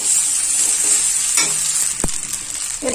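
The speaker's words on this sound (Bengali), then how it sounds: "আমি এবার একে একে মানে অল্প অল্প করে চাউমিনটা দিয়ে দেবো, আর অল্প অল্প করে মেশাবো, গ্যাসটা একটু লো করে দিলাম" Chow mein is being stir-fried in a pan over a low gas flame, giving a steady soft sizzle with a spatula scrape and a sharp knock against the pan.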